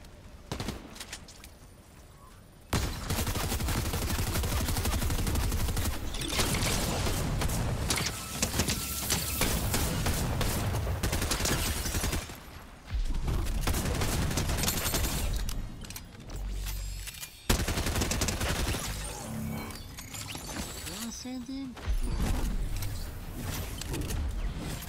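Fortnite gunfire crackles in dense, sustained bursts through a chaotic firefight, loud and close with brief lulls between volleys.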